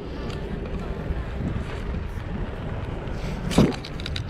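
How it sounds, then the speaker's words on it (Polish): Wind roars steadily against the microphone as a cyclist rides a narrow side lane in the Żuławy lowlands, a constant low buffeting with one brief louder gust near the end. "wiatr znowu prosto mi w twarz dmucha"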